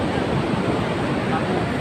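Waves and wind at a beach keep up a steady, loud, close roar of surf and gusting air with no breaks.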